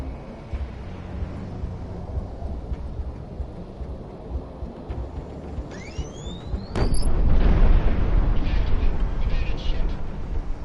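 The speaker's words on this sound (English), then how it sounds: "Kaboom!" Explosion in the aerial combat game Project Wingman, a sudden deep rumbling boom that swells and lingers as a loud roar after a rising whistle-like tone, over steady engine-like background noise.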